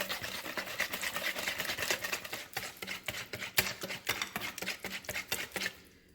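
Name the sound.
mixing waffle batter with cinnamon and Greek yogurt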